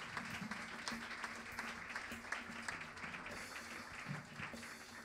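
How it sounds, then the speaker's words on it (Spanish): Steady applause from a church congregation at a Sunday worship service, a dense wash of clapping that runs the whole time at moderate level, with faint voices mixed in. "Denle un aplauso fuerte al Señor por este varón."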